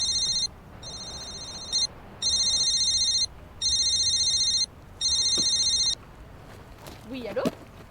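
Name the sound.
telephone ringing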